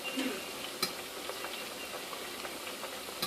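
Plantains frying in a pan, giving a steady dense sizzle and crackle of hot oil throughout, with a few sharper pops and faint scraping, no talking.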